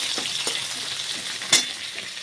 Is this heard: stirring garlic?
yes